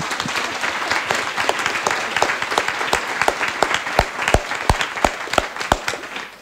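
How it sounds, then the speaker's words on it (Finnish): A Finnish audience gives ringing applause for a youth panel, dense sustained clapping with sharp individual claps standing out near the listener. "Mä ehdotan, että tässä vaiheessa jo raikuvat aplodit meidän nuorisolle"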